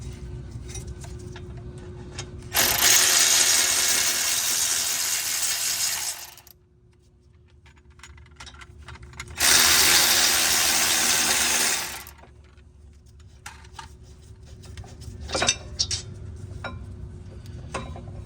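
A ratchet spins on the snug caliper bracket bolts of a fourth-generation Mazda 3 front brake, two long bursts of rapid clicking separated by quiet, then scattered metallic taps, close up with no talking.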